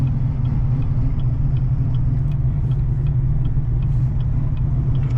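A deep, steady engine rumble from a Camaro ZL1 being driven through Chicago streets, low and throaty, continuous from start to finish with no speech.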